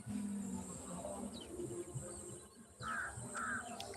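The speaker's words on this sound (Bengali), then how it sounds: "ওই কাক এইছে দেখ কাক" A crow gives a couple of short, harsh caws at a moderate distance over a steady wash of insect chirping and outdoor noise.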